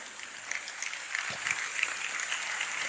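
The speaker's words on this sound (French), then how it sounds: "Madame Marie-Laure Abocha Boni, merci de l'accueillir par vos applaudissements." Audience applause welcoming a speaker to a religious talk. Soft, moderately distant clapping runs through the clip, with a few sharper claps standing out.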